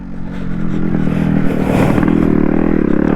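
A Yamaha RX 135 two-stroke motorcycle labours up an off-road hill, its engine revving hard and building steadily, with loose clatter and scraping from the rough ground, close and loud.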